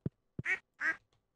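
Ducks quack in the video game Stardew Valley: two loud, drawn-out quacks close together, framed by short low thumps before, between and after them, with nothing else in the background.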